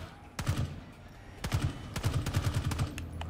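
Enemy gunfire in Call of Duty Black Ops 6, a single crack followed by rapid automatic bursts of sharp shots, fairly close and punchy, with a short pause between the first shot and the sustained volley.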